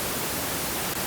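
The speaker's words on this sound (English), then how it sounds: "So pink noise sounds like this." A pink noise test signal, a steady broadband hiss that plays loud and unbroken for about a second with no other sound.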